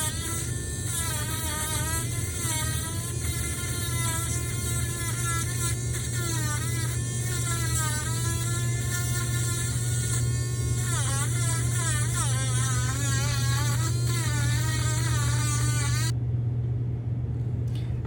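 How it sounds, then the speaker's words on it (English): A Coolio rotary engraver shaping a wood carving runs with a constant high-pitched electric whine and buzz, its pitch wavering as the bit bites into the wood, close and loud until it cuts out near the end. "This is a Coolio engraver."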